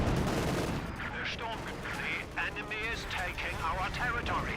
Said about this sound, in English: Bazookas does connect onto the Panzer IV.